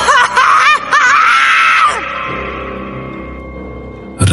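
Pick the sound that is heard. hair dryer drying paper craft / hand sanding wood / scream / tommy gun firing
scream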